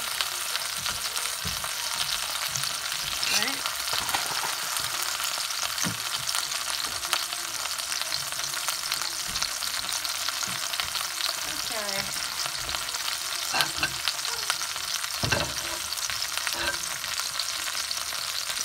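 Big beef short ribs frying in a pan on a stovetop, a steady crackling sizzle throughout with occasional louder spits and pops as they are turned.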